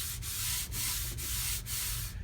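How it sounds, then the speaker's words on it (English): Sandpaper rubs in steady back-and-forth strokes over the lacquered fretboard of a mountain dulcimer, a close, raspy scratching with brief pauses at each change of direction, heard alone without talk. "In this case, my dad, Jim Ash, sitting here sanding a fretboard."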